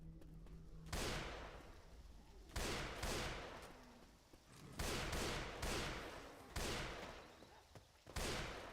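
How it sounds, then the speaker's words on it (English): Sniper rifle fire in a zombie shooter game: a run of loud, sharp shots, about six cracks spaced roughly a second apart, each with a fading tail, while a voice talks faintly between them. "The sniper is actually really OP because that one hit kills everything."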